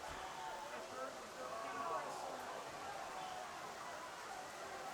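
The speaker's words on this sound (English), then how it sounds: "As it is now downpouring." Heavy rain pours down steadily at an outdoor high school football game, a dense hiss filling the air with faint crowd and field noise underneath, unchanging throughout.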